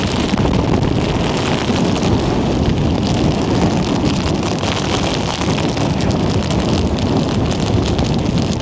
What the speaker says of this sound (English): now I'm in a hailstorm. It's extremely windy.